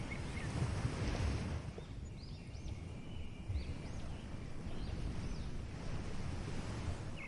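Ocean waves wash in a constant broadband roar, with faint birdsong chirping above the surf in the middle.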